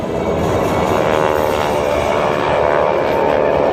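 Vintage propeller aircraft flying in formation at an airshow, with a loud, steady droning roar of piston engines and propellers held throughout, near and unbroken.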